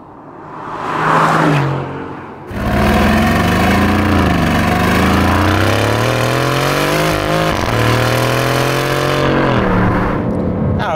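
An Aston Martin Vantage with roughly 500 horsepower pulls hard in second gear, its engine note climbing steadily in a loud, close, sustained acceleration after a brief quieter start, with no talking over it.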